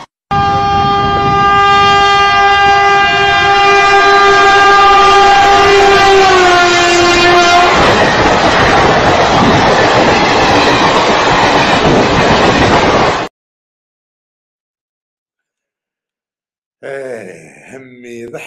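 A fast electric passenger train runs loud and close for about thirteen seconds, a steady rumble with a sustained horn-like tone that bends downward, then stops abruptly; after a silent gap, brief voices are heard.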